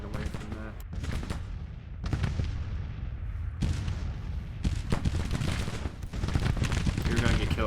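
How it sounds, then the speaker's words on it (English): Cannon and rifle fire rolls across a battlefield in the Civil War strategy game Grand Tactician, with repeated booming volleys and crackling bursts that stay loud and dense throughout. "You're gonna get killed by your own artillery."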